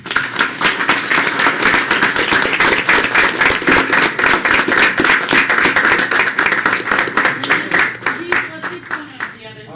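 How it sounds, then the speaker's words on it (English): Applause for award winners at a city council meeting, a dense, steady burst of many hands clapping that carries on for several seconds before tapering off. "So please give a round of applause to our award winners."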